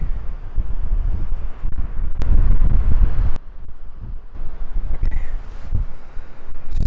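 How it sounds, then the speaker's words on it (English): Gusty wind buffets the microphone outdoors on a foggy day in San Francisco. Loud, uneven low rumbling surges and drops in strength, and a voice speaks briefly. "Sheesh, dude, it got windy."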